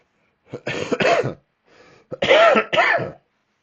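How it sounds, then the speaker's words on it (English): Several harsh, close coughs in two clusters, separated by a brief pause, with no talking. "Apologies about the cough."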